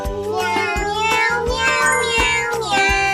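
A group of people sing "meow" together, imitating a cat as a vocal warm-up before a song, with a loud, continuous chorus of rhythmic meows over a steady backing tone.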